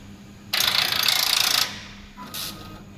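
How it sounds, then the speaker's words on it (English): A collar knitting machine is being reset with a loud mechanical ratcheting rattle of about one second, then a shorter, fainter second burst after a pause. Both bursts are close and there is no talk. "We reset the machine."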